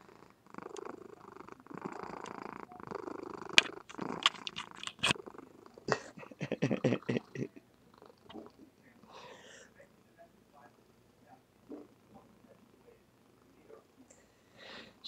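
A sleeping pet cat purrs steadily up close, a soft rhythmic rumble with snuffly breaths, while a person murmurs quietly over it in the first half.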